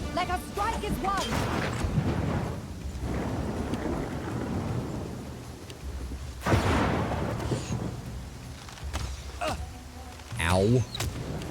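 Rain pours and thunder rolls in Pathfinder: Kingmaker, with heavy rumbling peals rising and fading over a steady downpour while someone talks over it.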